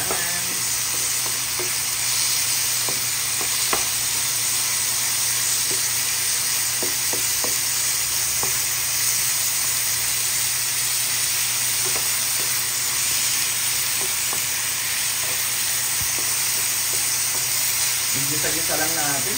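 Tomato sautéing in a pan for ginisang ampalaya, bitter gourd with egg, gives a constant loud sizzle with occasional stirring clinks, unbroken for the whole stretch.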